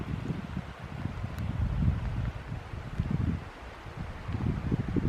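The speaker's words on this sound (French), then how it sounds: "Il y a des rafales de vent de dingue." Strong wind gusts on a rainy stretch of the Kungsleden hiking trail in Lapland, buffeting the microphone in uneven surges with deep rumbling roar that rises and falls.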